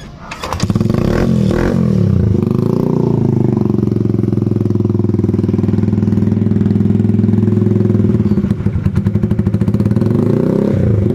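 A 125cc motorcycle fitted with a project pipe exhaust starts up and revs loudly up close, a deep, steady, throaty drone with some rev swells near the start and end and a brief dip in level late on.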